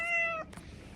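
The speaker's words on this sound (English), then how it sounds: "Whimsy starts meowing like crazy" A domestic cat gives one loud, drawn-out meow close by, which breaks off partway through and leaves a faint room hush.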